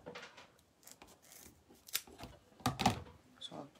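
Scissors cut through a piece of a poinsettia cross wreath, a few soft, close snips and rustles spread unevenly, with faint handling noise around them.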